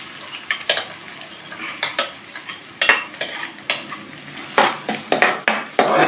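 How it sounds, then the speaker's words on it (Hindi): Sizzling of finely chopped onion frying in ghee in a hot pan for chicken shorba, with repeated scraping stirs and clinks of a utensil, close up, in irregular bursts. "इस पर अभी हम एक प्याज जो है ना वो बारीक कटा हुआ इसमें डालेंगे"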